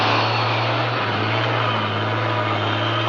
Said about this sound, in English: Sounds like the truck they were talking about.